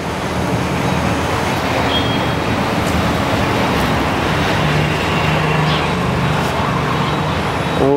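Steady road and tyre roar from a Tata Tiago EV electric car being test driven, a continuous broadband rumble with no engine note, loud and even throughout.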